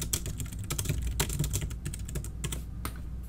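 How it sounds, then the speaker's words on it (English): Rapid, close keystrokes on a computer keyboard as a username and password are entered, a dense run of clicks with no talking. "And then you want to type in your Rollins username and password."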